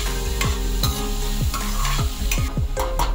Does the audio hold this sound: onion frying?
yes